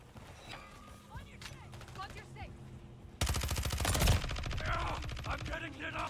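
Rapid bursts of submachine gun fire in Modern Warfare 3, a loud sustained volley erupting about halfway through after quieter game sounds and brief talk.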